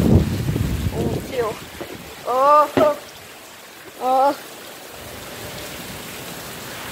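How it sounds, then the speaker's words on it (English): Hurricane Michael's gusting wind and rain roar steadily against an outdoor microphone, tossing a trash can about, while people let out brief startled exclamations over the storm. "Look what happens to the trash can with just the wind. And rain."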